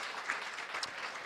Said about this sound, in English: let's please give one more round of applause for everybody that made today happen